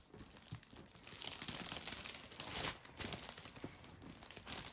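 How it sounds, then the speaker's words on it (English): A plastic cover is pulled back halfway during an unboxing of an art kit, making a soft, close crinkling and crackling that rises and falls in several short bursts. The sound is quiet overall and no one talks. "I pull back the plastic cover about halfway"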